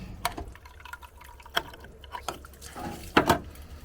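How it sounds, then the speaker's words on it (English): Water trickles and drips from a wall outlet that had been blocked, coming in small intermittent splashes with a few louder spurts near the end. The sound is fairly quiet and close. "You see how there's water coming out of there now?"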